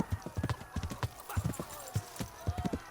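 A horse in the video game Kingdom Come Deliverance gallops with rapid, rhythmic hoofbeats and lets out a whinny, close and loud throughout.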